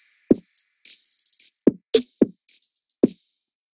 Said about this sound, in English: the drums sound like this all together